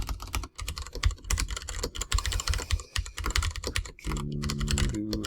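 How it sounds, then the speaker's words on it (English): Rapid typing on a computer keyboard, dense bursts of key clicks at close range that run without pause, ending in a steadier tonal hum. "How fast can he type"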